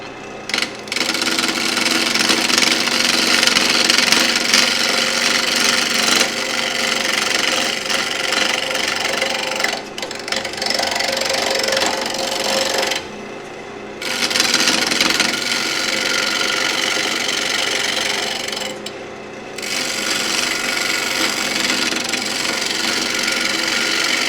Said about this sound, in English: let's turn the spindle